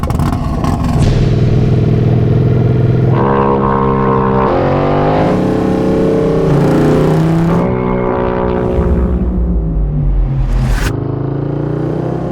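A Royal Enfield motorcycle launches on a land speed record run at the Bonneville salt flats. The engine roars loud and close throughout, revving and climbing through gears with shifting pitch, briefly dropping before surging again.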